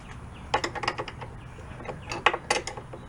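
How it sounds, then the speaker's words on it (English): Metallic clicking and ratcheting from a wrench backing a nut off a bolt on a 1980 Honda CR125 motocross bike, two close bursts of rapid clicks separated by a brief pause. "got a nut on the bolt and I'm backing it up to try to push this outside wall out here"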